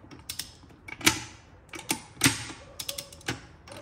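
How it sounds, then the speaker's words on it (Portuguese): A Fiat Tipo gearbox turned by hand on a workbench gives irregular mechanical clicks, creaks and ratcheting knocks, close up and with no talk. "E todas o câmbio gira."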